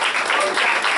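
Church congregation applauding together, a dense steady wash of clapping that fills the whole moment at close range with no voices over it.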